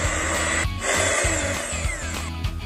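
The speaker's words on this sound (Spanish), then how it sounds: "Volvemos a batir para juntarlo todo y quede una masa homogénea." An electric mixer beats cake batter with sifted flour and baking powder for a quick microwave dulce de leche sponge, a close, steady motor whine with rhythmic beater knocks against the bowl throughout.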